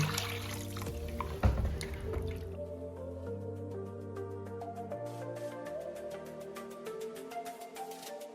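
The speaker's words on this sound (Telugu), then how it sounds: "నీళ్ళతో ఒకసారి బాగా కడగాలండి" Fish roe from two fish being rinsed with water, heard as close squishing and sloshing handling at first, then a steady run of drips and trickles, with no talking.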